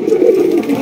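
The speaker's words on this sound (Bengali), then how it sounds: "এখানে রয়েছে বিশাল সাইজের এক জোড়া পটার কবুতর, ব্ল্যাক ম্যাকপাই পটার" A pair of large black magpie pouter pigeons cooing, a close, steady low throaty coo with no one talking.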